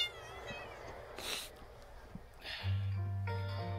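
A cat meows inside an RV, a few close, drawn-out calls with a sustained low tone near the end.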